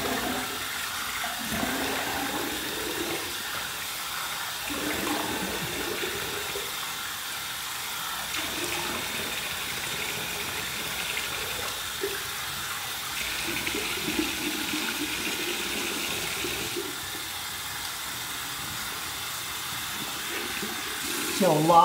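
Tap water runs into a bathroom sink to rinse away shaving hair after a head shave, a steady soft hiss of flowing water continuing throughout at moderate level, with faint intermittent clatter and no speech.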